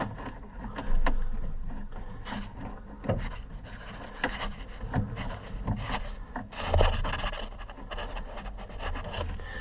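A nut driver scrapes, rubs and knocks against a nut on a White 4-180 transmission in irregular bursts of gritty metallic contact, close by and alone.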